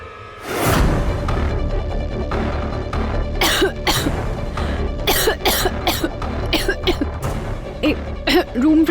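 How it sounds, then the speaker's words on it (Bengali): A girl coughs repeatedly in an indoor room, an allergic reaction to room freshener, with loud bursts of coughing and throat clearing spread through the scene over a steady background. "কি হয়েছে মা? কাশি হচ্ছে তোমার?"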